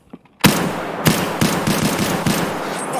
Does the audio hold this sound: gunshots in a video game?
yes